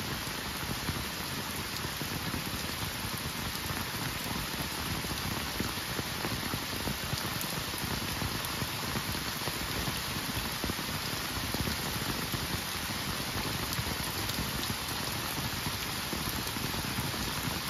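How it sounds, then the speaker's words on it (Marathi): Heavy rain pours down steadily, a dense, constant hiss of drops drumming on surfaces with no break for the whole stretch. "आता मात्र पावसान जोर केले ना."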